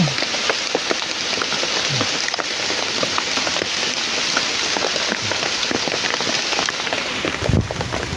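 Steady rain falls outdoors on a farm, a dense, continuous patter of drops on surfaces with a few sharper splashes, heard close and alone without talk.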